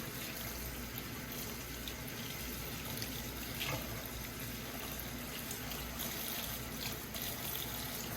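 Green onions rinsed under a running kitchen tap, a steady broadband splash of water over the sink lasting the whole stretch, with no talking.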